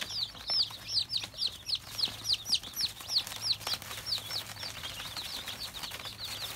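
Baby chicks cheep in a busy, overlapping chorus of high, rapid peeps while pecking at feed spread on newspaper, close by over a low steady hum.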